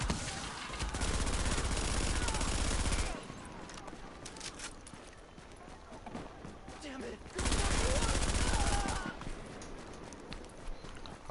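Bursts of rapid gunfire from a PS4 shooter game, two dense loud volleys separated by quieter game ambience with scattered shots.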